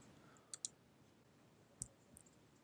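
Three crisp computer mouse clicks, a quick double click followed by a single one and a fainter click at the end, sound close and quiet against a soft room hush.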